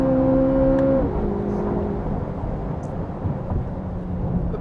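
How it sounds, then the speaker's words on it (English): A 2025 Chevrolet Corvette on a race track, its engine holding a loud high-pitched scream that drops in pitch as it shifts or lifts, then settles into a steady droning rumble. "this engine screams and is so fast."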